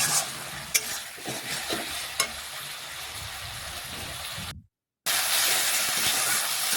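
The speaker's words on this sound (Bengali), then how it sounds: "মশলা এইভাবে বেশ কিছুক্ষণ সময় নিয়ে ভালোভাবে আমি কষিয়ে নিচ্ছি।" Masala spice paste is stir-fried in a pan: a steady sizzle with a spoon scraping and knocking against the metal, then a brief silent gap before the frying resumes louder.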